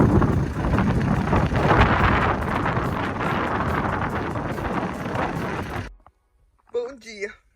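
Strong wind of about 40 km/h gusting outside a microcamper on the Isle of Skye, Scotland, a loud sustained roar buffeting the microphone for several seconds before cutting out, followed by a brief burst of nearby speech.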